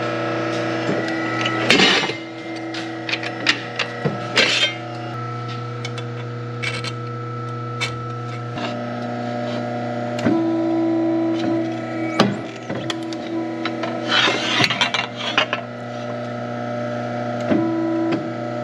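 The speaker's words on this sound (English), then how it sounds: "So got a piece of metal and an iron worker. We'll shear that, punch holes in it" An ironworker shears and punches a piece of metal over a constant machine hum, with several sharp clanks and grinding bursts spaced through the run and a couple of brief high metallic squeals.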